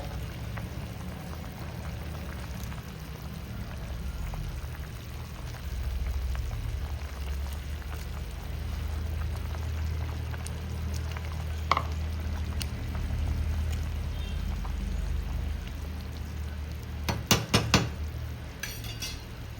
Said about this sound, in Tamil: குழம்பு கொச்சிடுது கருவாட்டை போட்டுக்கலாம்